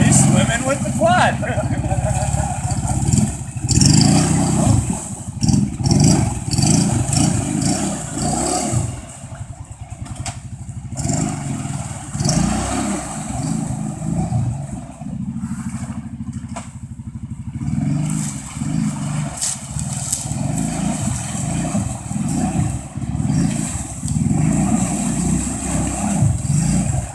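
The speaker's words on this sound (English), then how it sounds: "All you hear is exhaust." A quad ATV is driven through water, its exhaust droning and revving loudly and continuously for nearly half a minute, with people talking and calling out over the engine throughout.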